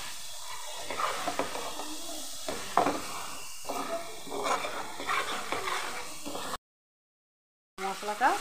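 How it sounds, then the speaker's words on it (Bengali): Spoon scraping and stirring masala in a pan as the spices are fried, with steady soft sizzling and repeated scraping strokes up close, broken by a short silent gap. "মশলাটা কষানো হয়ে গেছে আমার,"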